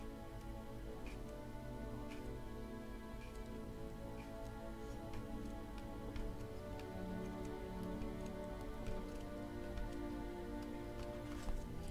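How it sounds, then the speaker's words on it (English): Heavy rain falls outside, heard from indoors as a faint, steady patter with scattered ticking drops on a surface, continuous and without any talking. "It's raining super hard."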